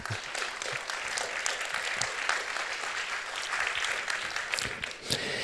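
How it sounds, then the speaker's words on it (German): Audience applause welcoming a professor before a lecture, a dense, even patter of many hands at moderate volume, sustained without pause and fading slightly near the end. "Einen kleinen Applaus bitte."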